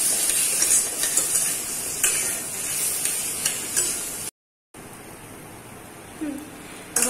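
Banana masala is stirred in a pan for a Jain suji dabeli, giving a steady scraping hiss with light clicks and taps, a brief dropout partway through, and a few sharper knocks near the end.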